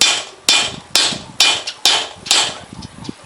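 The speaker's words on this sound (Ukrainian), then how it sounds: "оця частинка металу, де ми оцим молотком стукали" A hammer peening the metal blade of a hand scythe, about seven sharp ringing strikes at an uneven, deliberate pace, each with a short metallic decay, close and loud with no voices.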